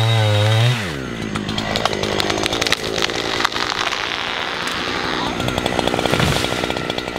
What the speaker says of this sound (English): The chainsaw is just streets ahead of the traditional method of felling a tree